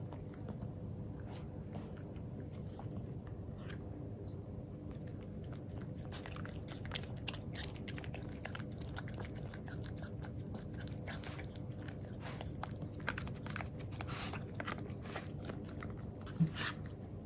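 A miniature pinscher eating yogurt, soft close wet licking and smacking bites scattered irregularly over a steady low background hum, with no voices.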